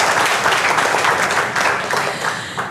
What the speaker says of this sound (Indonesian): Tepuk tangan jangan sendirian.